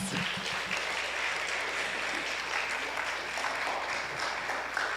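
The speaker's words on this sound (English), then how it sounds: "let's give them one more round of applause" Church audience applauding a group of awardees, a full, continuous round of clapping that stays steady and loud throughout, with a few voices faintly mixed in.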